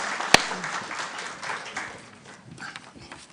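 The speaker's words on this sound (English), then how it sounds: "We'll clap you on to save the stony silence." Conference delegates at a party spring conference give light applause, with scattered claps including one sharp nearby clap, in a hall that fades toward quiet within a few seconds.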